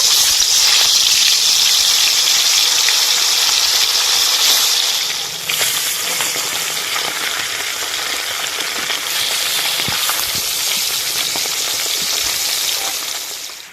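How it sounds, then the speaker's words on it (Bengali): Bhola river fish fry in hot oil in a wok over a lit stove, giving a loud, steady sizzle close by that eases slightly partway through, with occasional clinks and no talking. "এবার মাছগুলো ভেজে নেব।"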